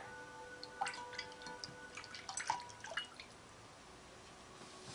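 Water drips and trickles as feet are lifted from a foot bath during a spa treatment, a few soft, scattered splashes and droplets close by in an otherwise quiet room.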